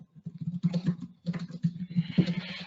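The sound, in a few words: typing on a computer keyboard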